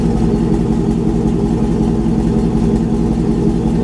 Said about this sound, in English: Spark plugs are changed, filters changed, so she sounds really good, idling really well.